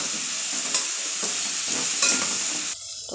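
Salt, turmeric, chilli powder, cumin and coriander powder fry in a small amount of oil for a potato curry, giving a close, soft sizzle. A spoon scrapes the pan in a few stirring strokes, and the frying quiets near the end.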